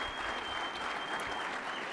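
A banquet audience at a business partnership's annual dinner breaks into steady, dense applause, many hands clapping together at an even level for the whole moment.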